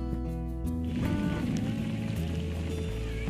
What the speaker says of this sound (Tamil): மழை விடுற மாதிரி தெரில.